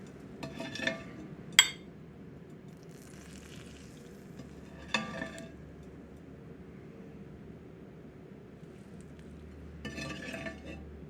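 A butter-basted New York strip steak with garlic sizzles steadily in a hot cast iron skillet, a quiet continuous fry broken by several sharp metallic clinks of a utensil against the pan.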